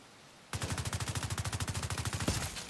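Big Horn exotic assault rifle in The Division 2 fires a long, rapid automatic burst of evenly spaced shots, loud and close, with no voices.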